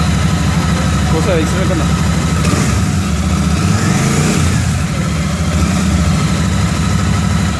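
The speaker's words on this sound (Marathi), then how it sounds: "फक्त दाखवून दिला आवाज कसा आहे गाडीचा" A 2024 Royal Enfield Shotgun 650 motorcycle sits inside a showroom, its engine idling with a steady low thrum and rising briefly in a rev, while someone speaks over it nearby.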